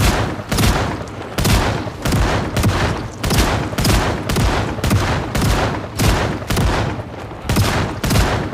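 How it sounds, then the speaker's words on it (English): Rapid shotgun fire from the video game Project Zomboid, with loud close blasts repeating steadily about twice a second for over eight seconds, each shot a sharp broadband crack over a continuous background din, with no talking. "Wow, that shotgun shoots really fast."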